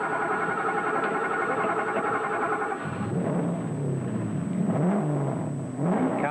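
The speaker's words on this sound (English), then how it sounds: "the big V8 fired up" A 1980 Mercedes works rally car's big V8 engine idling, then firing up and revving with rising and falling pitch sweeps, loud and close, at night on a special stage.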